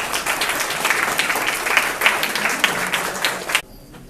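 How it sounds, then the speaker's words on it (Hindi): Audience at a sports award ceremony applauds to welcome the chief guest, a dense, even burst of clapping from a crowd that stops abruptly, leaving a quiet room. "एक बार सभी तालियों से उनका स्वागत करेंगे।"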